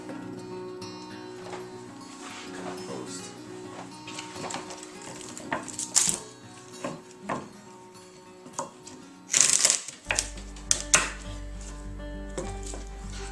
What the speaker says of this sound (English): We're going to cut up the celery. I like to use a nice big sharp knife.